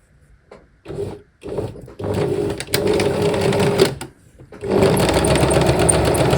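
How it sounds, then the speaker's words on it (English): A sewing machine with a 1/4 inch foot stitches a seam in several whirring bursts, stopping and starting, then runs steadily at the end with a fast mechanical buzz, close and loud. "I'm just using my 1/4 inch foot on my sewing machine"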